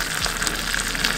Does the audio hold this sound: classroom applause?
no